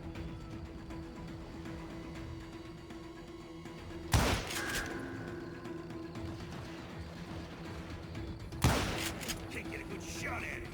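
Gunfire in the Western shooter Call of Juarez: Gunslinger: two sharp, loud gunshots about four seconds apart, each with a short echoing tail, over a steady low game ambience hum.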